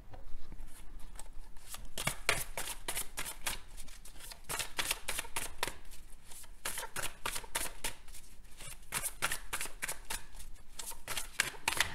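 A deck of tarot cards is shuffled by hand up close, a rapid run of crisp riffles and slaps in quick bursts with short pauses, and no talking.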